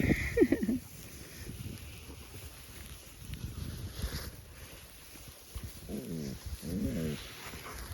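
A pack of husky dogs outdoors, with a few high whining or howling cries rising over steady wind noise, loudest near the start and again toward the end.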